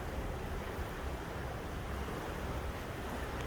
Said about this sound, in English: the river is high, starting to come up even more for summer flows, running with lots of water